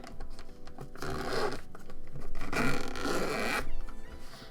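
Zipper being pulled open around a soft velvety Razer Raiju controller carrying case, close and crisp, in two or three rasping strokes with short pauses between.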